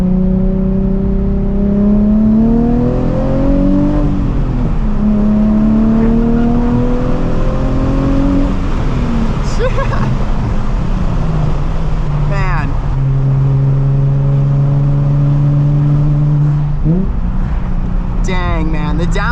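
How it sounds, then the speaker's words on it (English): A Nissan 350Z HR engine revs hard through downshifts, with rising and falling tones stepping between gears and sharp blips, loud and close from inside the car, while someone talks over it now and then. "the downshifts in this thing sound pretty crazy"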